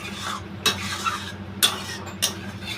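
Spices frying in a pan while being stirred: a low steady sizzle under three sharp scraping sweeps of a spatula across the metal, close and distinct.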